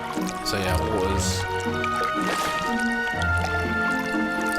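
Wet squishing and draining liquid sounds come from floodwater being removed in the Roller Coaster Tycoon World terrain editor, bubbling and sloshing over tonal game music.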